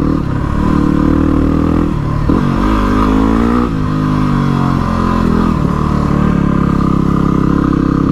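A Yamaha WR motorcycle climbs a mountain track in the Victorian High Country, its engine droning loudly and steadily up close while the pitch swells and dips as the rider works the throttle.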